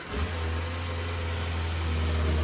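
A 2021 Kawasaki Ninja ZX25R motorcycle started with the key, quick starter catch then the engine settling into a steady, even idle, close and alone without talk.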